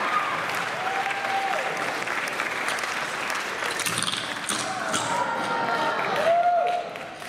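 A comedy and oddities show crowd claps and cheers for a performer eating a light bulb. The applause is steady and busy, with scattered whoops and a voice rising over it before it fades at the end.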